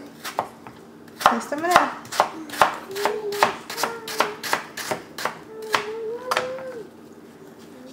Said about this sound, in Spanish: Y van a cortar las manzanas en rodajas delgadas